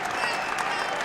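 The home crowd at a Bowling Green men's college basketball game against Miami (Ohio) applauds in a steady wash of clapping in the arena, with a voice talking over it.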